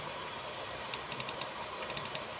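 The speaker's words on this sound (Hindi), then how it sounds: "इस पर 2 बार क्लिक करेंगे आप, ठीक है, 2 बार क्लिक" A computer mouse clicks twice in quick succession, then again a moment later, in small crisp pairs over faint background hiss while working in FL Studio.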